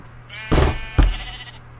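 Sheep bleating in a video game, with two loud bleats about half a second apart over a steady low in-game hum.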